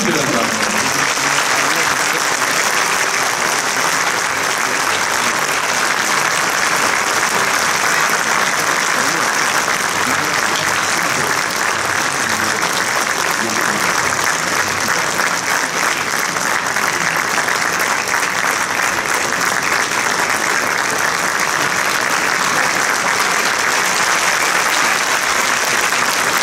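Applause from a concert audience at a special November 24 concert, steady dense clapping that fills the whole stretch without a break, loud and close.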